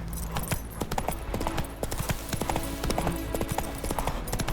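Roach the horse's hooves clip-clop steadily in The Witcher 3, a continuous rhythmic trot over a busy background of ambient game sound, with no talk over it.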